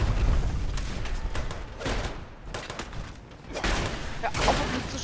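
Gunfire in Fallout 76 comes as repeated bursts of fairly close, loud shots with booming low rumble, clustered in several volleys over a few seconds amid dense game noise.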